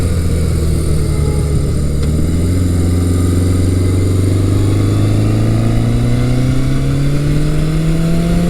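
A classic Yamaha XS1100 or Honda CB900C motorcycle engine revs steadily upward in a long climbing pull, loud and close, with a continuous rumble and no voices.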